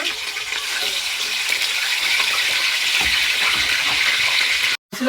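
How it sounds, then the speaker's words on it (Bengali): Chicken pieces frying in hot oil, a loud, steady hiss and crackle close up, with a faint knock partway through and a brief cut near the end. "চিকেনটা দিয়ে দিলাম ভাজার জন্য"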